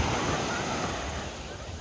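Surf washes steadily onto a beach on Nevis Island, a broad, loud, continuous roar of breaking waves with a wind-like hiss throughout.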